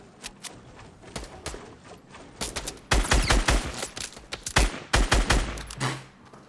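Rapid gunfire crackles in Fortnite Battle Royale, scattered single shots at first, then dense bursts of automatic fire, loud and close, with faint footsteps.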